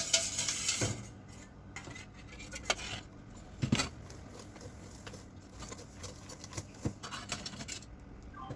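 A utensil scrapes and clinks against a bowl as wet and dry red velvet cupcake batter ingredients are combined, giving scattered taps and knocks at an uneven, close-up rhythm.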